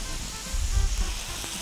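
Vegetables fry lightly in a pan with a soft, continuous sizzle that briefly thickens with stirring or shifting of the pieces. The sizzle is close, and no one speaks.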